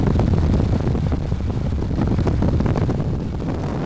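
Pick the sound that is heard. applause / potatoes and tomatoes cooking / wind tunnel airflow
wind tunnel airflow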